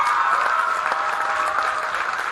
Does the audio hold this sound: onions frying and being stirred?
no